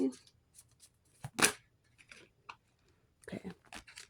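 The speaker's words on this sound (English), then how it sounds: "I'm going to shuffle" Tarot cards being shuffled in a short, uneven burst of riffles and flicks, one sharp loud riffle near the middle, with quieter card rustles and faint background voice sounds around it.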